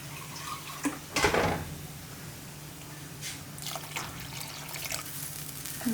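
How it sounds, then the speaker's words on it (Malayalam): Water poured into a pan of Kerala prawn curry, a faint close splash and trickle followed by soft drips and light clinks of the pot, quiet and intermittent with no talking. "കുറച്ച് വെള്ളം കൂടെ ആവശ്യമുണ്ട്"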